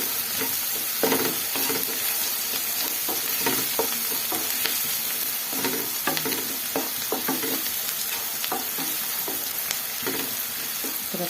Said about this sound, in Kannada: ಈ ಥರ ಗೋಲ್ಡನ್ ಕಲರ್ ಬರೋ ತನಕ ನಾವು ಈರುಳ್ಳಿನ ಫ್ರೈ ಮಾಡ್ಕೊಬೇಕು